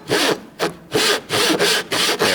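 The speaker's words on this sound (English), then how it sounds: "I'm going to cut a groove in this piece of wood to serve as a guide for my dado cut." A hand saw cuts a guide groove in a piece of wood for a dado joint on a boot jack project, sounding as five steady back-and-forth rasping strokes, close and loud, with brief gaps between them.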